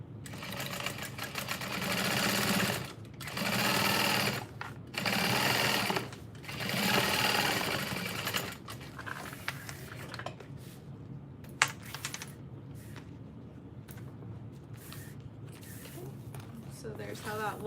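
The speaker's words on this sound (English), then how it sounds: "I'm gonna fold this top up and top stitch on the vinyl" Top stitching on vinyl for a round bucket bag with a sewing machine: a few close, steady runs of stitching with short gaps, then quieter handling noises afterward.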